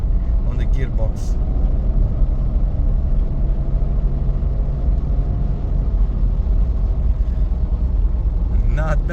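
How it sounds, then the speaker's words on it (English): A Mercedes 300E W124, driven for the first time after nine years, cruises in top gear with a whining gearbox, a steady close engine and road rumble throughout, with brief faint sounds at the start and end. "I can hear a whine from the gearbox."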